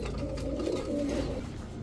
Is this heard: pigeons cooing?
yes